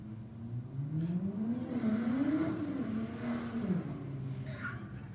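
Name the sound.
drag race cars revving at the starting line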